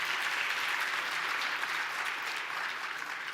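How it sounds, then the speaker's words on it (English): Audience at an awards ceremony claps in a dense, sustained burst of applause from a large crowd, steady throughout and fairly loud. "Let's give them all a big round of applause."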